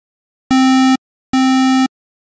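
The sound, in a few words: square wave synthesizer notes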